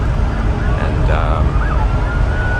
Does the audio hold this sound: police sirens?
yes